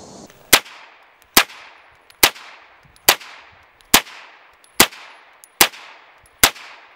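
Chiappa M1-9 9mm carbine fired at an outdoor range, eight sharp, loud shots at a steady pace about a second apart, each with a short decaying echo and no talking.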